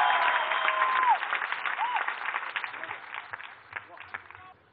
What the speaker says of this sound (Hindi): एक बार दोनों हाथ उठाकर जोरदार तालियों के साथ स्वागत करिएगा